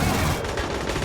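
Gunfire from the game Aliens Colonial Marines, a brief dense burst of shots, loud and close, with no voices over it.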